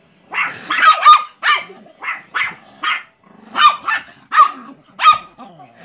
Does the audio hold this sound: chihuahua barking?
yes